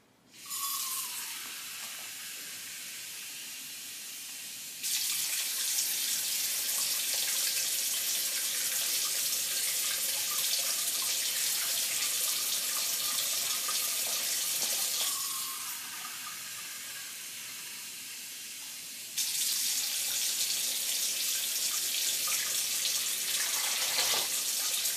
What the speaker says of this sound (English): I'm going to add 2 cups of water to a bowl.